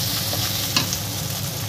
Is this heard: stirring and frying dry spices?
yes